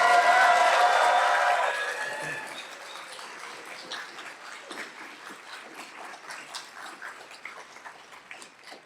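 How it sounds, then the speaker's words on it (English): An audience at a university chemistry department graduation ceremony bursts into loud clapping and cheering, which fades after about two seconds into scattered, lighter applause that trails on. "I want you to clap and cheer as loud as you can to guarantee that they can hear you."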